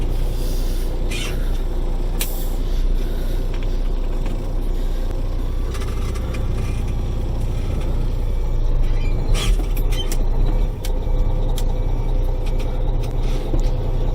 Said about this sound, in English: let's back her out of here so I can dump the water out of the bed